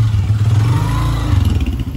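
A motorcycle goes by close and loud, its engine note rising and then dropping away as it passes, with a clattering mechanical edge to the sound.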